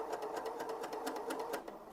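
Four-thread overlock sewing machine stitching fabric, a fast steady mechanical whir with rapid rhythmic needle clatter, fairly quiet and close, running continuously.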